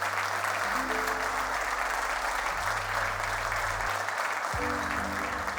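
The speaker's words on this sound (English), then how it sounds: "Give yourself a big round of applause" Sustained audience applause, a dense even wash of clapping from a crowd, steady in loudness for the whole stretch.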